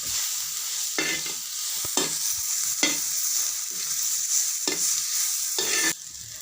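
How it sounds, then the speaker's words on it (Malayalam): Turmeric masala for lemon rice stirred in a pan, a sharp scrape of the spoon landing about every second over a steady close sizzle of frying, with no voices. "ഇനി ഇതെല്ലാം കൂടി ഒന്ന് മിക്സ് ചെയ്ത് കൊടുക്കണം."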